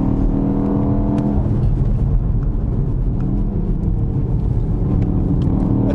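A BMW X2 accelerates hard, its engine note rising steadily and dropping with heavy thuds at each upshift, loud and continuous with no talk over it.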